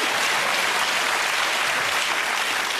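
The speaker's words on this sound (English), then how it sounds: "That deserves a round of applause." Dense, steady applause from a crowd, loud and continuous throughout with no pauses or voices standing out.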